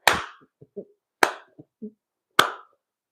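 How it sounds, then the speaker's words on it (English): Three sharp handclaps spaced about a second apart, each trailed by a couple of softer knocks or pats, heard close and alone from someone in the back of a reality TV scene. "And you got Sweet Tea in the back clapping"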